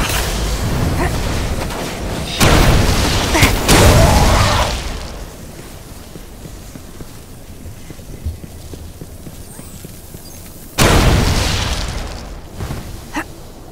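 Loud booming explosions from the video game Destiny burst out twice, each a heavy blast with rumbling decay, separated by quieter stretches of game ambience and scattered small pops.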